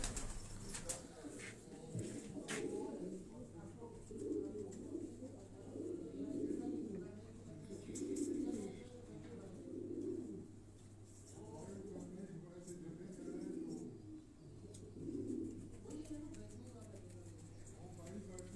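A pigeon kept for three or four years coos in soft, low, repeated phrases at a steady rhythm, faint and close, with someone talking over it at times.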